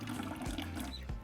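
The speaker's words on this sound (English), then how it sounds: "I'm going to be using a piece of cheesecloth to strain my horchata mixture" Horchata mixture poured through cheesecloth into a jar, a steady close watery rush and trickle with low sloshing, alone for about a second.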